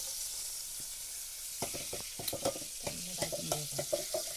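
Three or four garlic cloves fry in hot oil in a Konkan village kitchen, a soft hiss that turns into busy clattering and scraping of stirring partway through.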